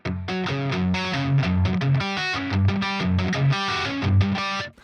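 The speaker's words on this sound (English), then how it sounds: "here is just full bridge pickup." A distorted electric guitar on its bridge pickup plays a quick chugging riff with bright, crunchy tone and choppy palm-muted rhythm, loud and alone.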